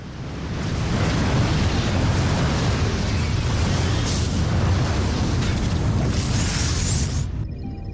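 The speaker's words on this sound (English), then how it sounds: "Pretty alright explosion." A sustained, roaring explosion in the space game Star Trek Online, rumbling loudly for several seconds with a dense, crackling wash before cutting off abruptly.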